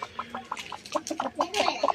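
A hen daubed with turmeric clucks in a run of short, quick clucks, fairly close and steady, with a few sharper notes toward the end.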